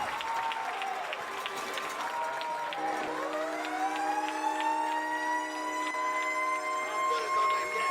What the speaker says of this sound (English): And you hear the sirens, people.